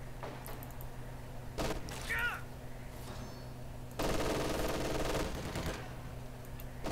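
Bursts of MG42 machine gun fire in a Company of Heroes 2 battle, rapid rattling volleys that come and go over a low rumbling backdrop, with other combat noise between bursts.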